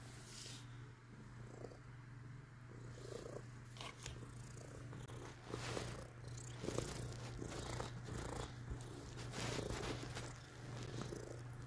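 Domestic cat purring loudly and close, a steady low rumble running throughout with small rustles and movement noises, no talking.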